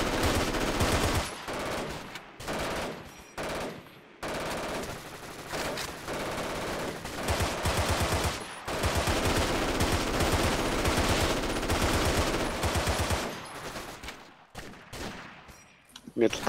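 Rapid machine-gun and rifle fire in the World War II shooter Forgotten Hope 2 at Brecourt Manor, long loud bursts broken by short pauses, with voices talking over the shooting.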